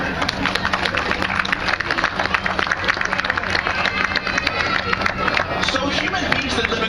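An audience at a whale show at the Vancouver Aquarium claps steadily and loudly, with dense applause mixed with crowd chatter and a few cheers.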